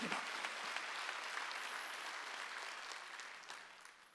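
A church congregation breaks into sustained applause during a Sunday worship service, a dense, steady wash of many hands clapping at a distance that fades slightly toward the end, with no voices standing out.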